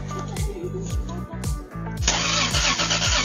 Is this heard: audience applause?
no